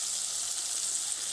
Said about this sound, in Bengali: 2 মিনিট মতন মশলাতে বরবটিটা আমি কষে নেব